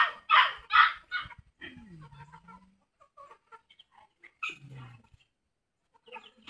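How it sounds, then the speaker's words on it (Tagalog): Chickens cluck and squawk as they scurry about a rural yard, with a couple of loud close calls at the start followed by scattered fainter clucks and rustling. "Dagan manok oh."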